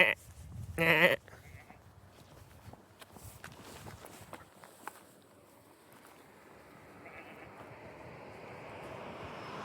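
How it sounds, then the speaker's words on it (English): Goats bleat a couple of times near the start on the barren slopes of Haleakala volcano on Maui, short close calls followed by faint footsteps, quiet wind and a distant aircraft hum building toward the end. "We're checking out these goats."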